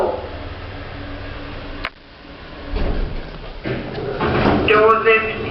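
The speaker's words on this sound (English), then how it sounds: "Doors opening." Hospital lift doors sliding open after a thump, followed by a rumbling slide and rising mechanical noise, with a voice announcing over the sound near the end.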